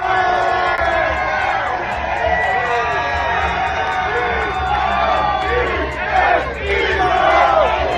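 A large crowd at a concert at Citizens Bank Park in Philadelphia roars and cheers, a loud continuous wash of voices with shouts and whoops, swelling near the end.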